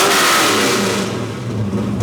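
A Ford Mustang Foxbody engine runs loud and steady close by, its revs easing down toward a settled idle with no voices over it.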